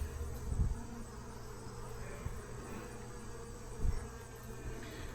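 Honeybees buzz around an open hive of freshly drawn honeycomb, a steady low drone carrying throughout with a couple of brief louder thumps from handling the frames.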